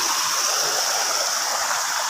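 A mountain stream on Mount Banahaw rushes steadily, giving a close, continuous hiss of flowing water with no voices over it.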